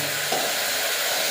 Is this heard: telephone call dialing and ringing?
no